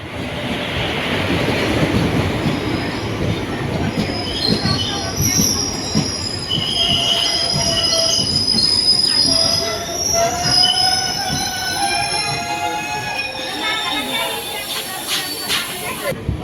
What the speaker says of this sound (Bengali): আজকে আমি এই ট্রেনে চেপে রওনা দিব আমার গন্তব্য স্থানের দিকে